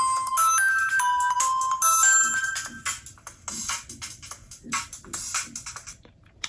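Windows Phone's Two-Step ringtone plays from the loudspeaker of an unreleased Nokia Lumia prototype, a bright, close, rhythmic run of repeated chime notes that fades into a short, sparse tail.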